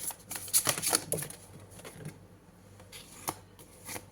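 Tarot cards riffle and slide against each other at close range, a flurry of crisp papery flicks and snaps followed by quieter sliding as a card is drawn, with a few soft taps near the end.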